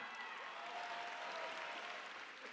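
Audience applause at a high school commencement ceremony held in a university venue, a steady, dense wash of clapping from a large crowd that holds evenly throughout with no speech over it.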